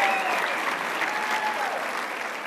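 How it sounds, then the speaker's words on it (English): Dense, sustained applause from a large audience greeting Governor Mary Fallin of Oklahoma, loud and even throughout with no pause. "Let's give a great round of applause to your own governor, Mary Fallin"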